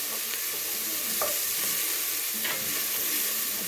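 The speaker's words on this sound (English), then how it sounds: "And once you put the garlic in, you have to keep stirring so that it doesn't burn" Chopped garlic frying in a soup pot, a dense, loud, unbroken hiss with a few faint scrapes of stirring close by.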